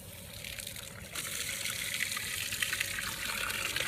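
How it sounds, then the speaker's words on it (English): Water runs into a container of clay being refined for primitive pottery, a close, steady splashing flow that grows louder and fuller about a second in and continues. "So we're just going to fill it up the rest of the way with water"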